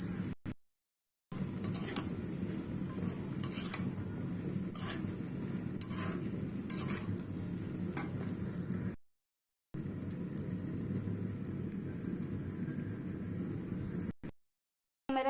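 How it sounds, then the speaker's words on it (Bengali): Spice masala fries in oil with potatoes, giving a low, faint sizzle with soft scraping stirs. The sound cuts out briefly a few times. "তেল উঠে আসা আগ পর্যন্ত মশলাটা ভালো করে কষিয়ে নিতে হবে।"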